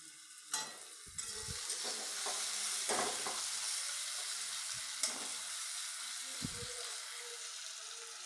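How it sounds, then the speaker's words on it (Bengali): Onions sizzling in a hot pan, a steady frying hiss punctuated by several sharp scrapes and stirring knocks of a spoon against the pan, close and without talk. "পেঁয়াজটা ভালো করে ভাজা হয়েছে।"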